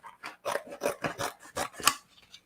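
Heat transfer vinyl for a door sign being trimmed, a quick series of about eight rasping cuts or scrapes in an uneven rhythm, close and clear with no talk.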